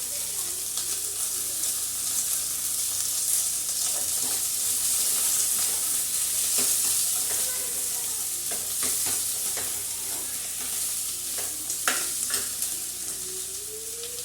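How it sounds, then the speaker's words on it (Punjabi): Onion dropped into hot oil with cumin seeds for an okra sabzi, a loud continuous close sizzle with repeated spoon scrapes and stirring clinks against the pan, no talking. "ਤੇਲ ਪਾ ਕੇ ਤੇ ਜੀਰਾ ਮੈਂ ਪਾਤਾ ਹੁਣ ਆਪਾਂ ਪਾਵਾਂਗੇ ਪਿਆਜ਼"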